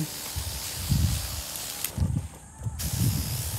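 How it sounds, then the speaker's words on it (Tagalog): Foliar fertilizer sprayed upward onto the undersides of plant leaves, making a close, steady hiss of mist with uneven pulses and low rustling beneath. "ang pag-spray po nito ay pataas para dun sa ilalim"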